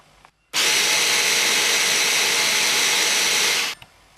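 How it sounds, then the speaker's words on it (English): Electric 3-in-1 hand blender whizzing bread into breadcrumbs: one loud, steady, high-pitched whir running about three seconds, cutting in abruptly and then stopping. "we need to use a 3-in-1 hand blender again, because we need to whiz up our bread into breadcrumbs"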